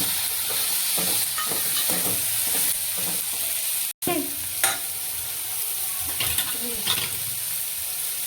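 Peas tossed into mixed vegetables frying in a pan, with steady sizzling and repeated scraping stirs throughout, close and fairly loud, one brief dropout midway.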